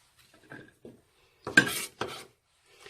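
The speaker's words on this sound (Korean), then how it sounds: "자, 당근도 이렇게 조금 썰어 주시고요" A knife slicing carrot into thin half-moon pieces on a cutting board: a few separate, close cuts, the middle ones louder and longer, with quiet gaps between and no talking.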